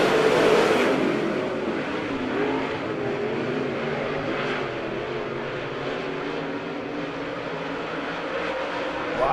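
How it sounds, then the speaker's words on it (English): Race cars at Monett Motor Speedway pull away under green flag racing, and a pack of engines roars loudly and continuously at mid distance, swelling briefly at the start. "We're at green flag racing here."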